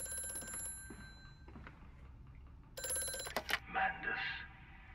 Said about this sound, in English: The phone's ringing again.